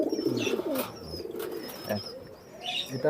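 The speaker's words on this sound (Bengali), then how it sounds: "এটা হচ্ছে দেশি কবুতর আপনার ডিম বাচ্চা ফুটানোর জন্য" Domestic pigeons kept for breeding coo softly and repeatedly nearby, with brief chirps and a flutter of wings at a pigeon sale farm.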